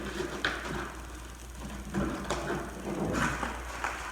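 Bar clamps being ratcheted tight against a glued-up oak table top, a few sharp clicking mechanical ratchet strokes spaced irregularly, quiet and close in a workshop.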